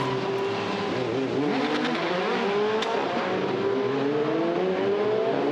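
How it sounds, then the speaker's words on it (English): Formula Renault Eurocup race cars at the Pau street circuit, one spinning off on a slippery corner; loud engines rev and whine with shifting pitch, close and continuous, with no talk. "Actions and spins from car number 5, with Tech 1 Racing's Thomas Maxwell spinning off"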